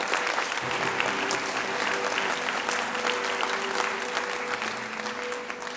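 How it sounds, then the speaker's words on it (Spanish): Congregation at a church service clapping loudly and steadily throughout, a dense, continuous wash of hand claps with a faint sustained musical tone underneath. "vamos a dar unas fuertes palmas"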